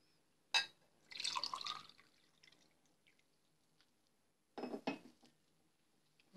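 Water poured onto plant grains for homemade plant milk comes in a couple of short, splashy pours, with a clink of kitchenware in between, close by and otherwise quiet.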